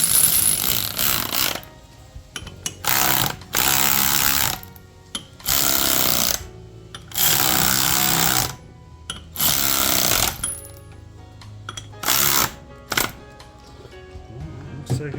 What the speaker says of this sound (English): I'm gonna go grab my electric ratchet for this.